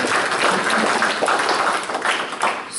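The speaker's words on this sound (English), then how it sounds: "so give him an applause one more time." A lecture audience claps briefly at a class session, a dense, even patter of hands in a room that holds steady throughout the short burst.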